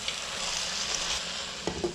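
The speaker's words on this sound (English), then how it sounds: "And let's give a quick mix." Onion greens, chopped tomato and broken fried vadi stir-fried in a hot pan for pyaj saag, a steady soft sizzle with a few scraping stirs of the spoon near the end.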